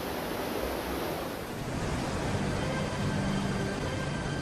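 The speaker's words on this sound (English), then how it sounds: "water from the head race flows into a wheelhouse, where it steadily turns the big water wheel" Water from a mill head race pours steadily into a wheelhouse, turning a large restored water wheel; a continuous broadband rush of flowing water, fairly loud and even throughout, with no talk.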